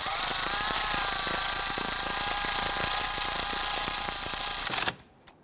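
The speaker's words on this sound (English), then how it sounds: "I'm going to gently snug this down because this does require a torque spec." A powered tool snugging down the camshaft position sensor bolt on a 2006-2012 Toyota RAV4 3.5L V6, a close, continuous buzzing whine that runs steadily, then cuts off abruptly near the end.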